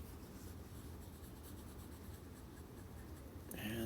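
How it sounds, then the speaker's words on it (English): Steady rubbing and scrubbing of an eraser being swept across a board, a continuous soft friction texture that runs throughout and ends with a brief louder scuff. "Let me erase it all."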